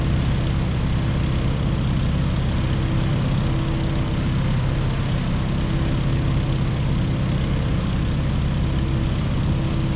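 Steady propeller drone of a Stearman open-cockpit biplane in Microsoft Flight, droning evenly and loud throughout with no talk over it.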